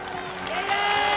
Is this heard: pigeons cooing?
no